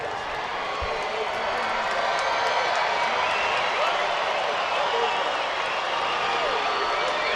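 Home crowd roaring steadily at a Los Angeles Angels baseball game against the Oakland Athletics, a dense, sustained wash of cheering and applause filling the stadium throughout, loud and unbroken.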